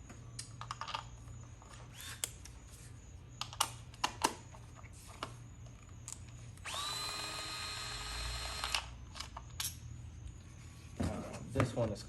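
A socket wrench works a spark plug on a 2010-2017 Ford Fusion Hybrid, with close clicks and ratcheting taps scattered throughout and one sustained whirring stretch in the middle. A person speaks quietly at times.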